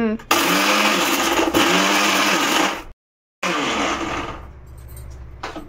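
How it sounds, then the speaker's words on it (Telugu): A mixer grinder grinds roasted wheat flour for churma, whirring loudly and close in two bursts with a brief full stop between them, then winding down. "ఇప్పుడు ఇదిగోమ్మా మనం మిక్సీ పట్టేసుకుందాం."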